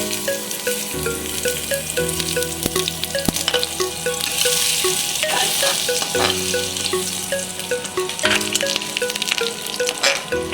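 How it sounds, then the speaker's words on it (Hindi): Chopped garlic sizzles and sautés in a few tablespoons of hot oil, a loud continuous frying crackle with occasional stirring scrapes and faint background tones, no talking. "गार्लिक चॉप करके रखा है वो गार्लिक आप डाल दें और अच्छे से सौते कर लें।"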